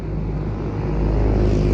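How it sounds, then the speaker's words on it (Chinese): A motorcycle passing on a street in a small town in Vietnam near Hanoi, a loud close engine roar that holds steady and swells slightly as it goes by, with no talk. "越南主要是骑这种摩托车，"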